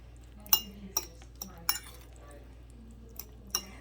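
Spaghetti being mixed with a thick sauce in a dish, heard as sparse sharp clinks of a utensil against the dish between quiet moist stirring, fairly close and soft overall.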